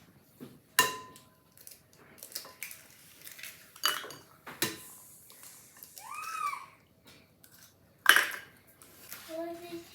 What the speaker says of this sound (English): We're gonna add in 2 eggs into our bowl.